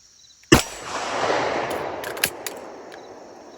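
A CZ 75 SP-01 handgun fires one sharp, loud close shot whose echo rolls on for a couple of seconds, then a second fainter crack follows amid light clicks and handling noise.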